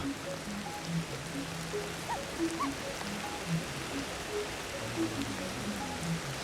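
Steady rainfall fills a forest scene in the prehistoric survival game Ancestors, a dense even patter with scattered soft drips and faint chirps mixed in, and no voices.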